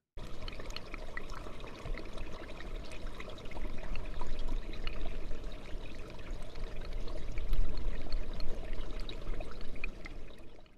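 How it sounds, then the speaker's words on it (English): Brook water, amplified as if heard right against the surface, trickles and pours in a continuous bubbling stream that swells and eases over several seconds, with no voices. "The musicality of the brook is really quite incredible."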